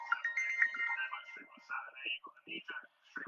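A phone ringtone plays a repeating melodic tone pattern throughout, with someone speaking in low tones over and between the rings.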